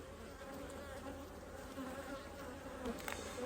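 Honey bees drone continuously in an open beehive, a soft, steady close buzz with no voices.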